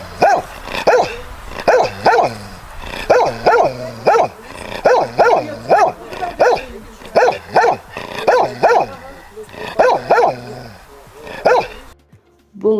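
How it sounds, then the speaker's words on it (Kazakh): A dog barks in a loud, close, rhythmic series of short barks, often in quick pairs, repeated steadily for about twelve seconds before stopping. "Ал бұл ит, аф, дейді."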